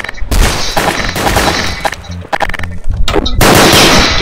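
Loud, close gunfire in Garry's Mod Dark RP, with repeated rapid automatic bursts and dense volleys broken by brief gaps, then a sustained barrage at the end.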